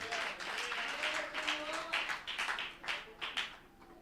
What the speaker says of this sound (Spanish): Dele un fuerte aplauso a Dios.